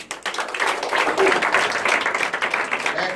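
A congregation at a deliverance church service applauds and acclaims the Lord, with steady dense clapping filling the room throughout at moderate volume, mixed with a faint murmur of voices.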